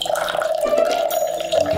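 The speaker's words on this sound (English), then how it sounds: "Drinking water comes out." Drinking water pours from an alkaline water dispenser in a steady, close stream, lasting about two seconds with no speech over it.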